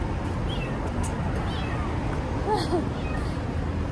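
A cat meows a few short, faint times against a steady noisy background of a Dubai street with a hum of distant activity.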